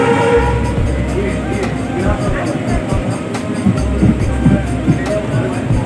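Inside a moving passenger train carriage, a loud, steady rumble and rattle of wheels and coach runs without a break, with muffled voices of people talking nearby.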